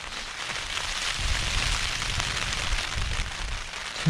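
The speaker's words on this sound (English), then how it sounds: "Just been woken up by the rain." Rain patters steadily on a tent at night while camping between two rivers in Scotland's remote Fisherfield mountains, a dense continuous hiss of drops drumming on the fabric with no talk.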